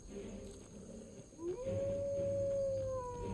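A single wolf howl from the video game Skyrim rises and holds a long, clear, fairly loud tone over low game ambience.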